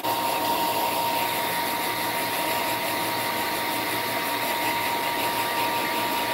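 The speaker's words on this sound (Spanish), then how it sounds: "Yo agarro el secador y presiono en aire frío." A hair dryer runs on its cold air setting, giving a steady, loud, even whoosh of blowing air that continues without a break and has no talking over it.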